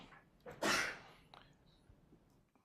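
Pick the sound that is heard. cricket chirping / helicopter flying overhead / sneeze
sneeze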